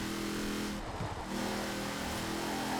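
A 1270-horsepower racing van revs its engine in an open-world driving game, a steady loud mid-pitched engine roar that holds for about three seconds with a brief dip near the middle.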